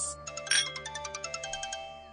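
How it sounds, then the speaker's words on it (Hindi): A phone ringtone plays indoors, a bright chiming melody of quick repeated electronic notes over a short burst, close and clear with no speech. "किसका फोन आ रहा है?"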